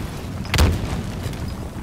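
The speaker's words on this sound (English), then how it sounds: "Grenade out." Grenade explosion in Halo Infinite multiplayer, a single short muffled boom that bursts over a steady background of game noise.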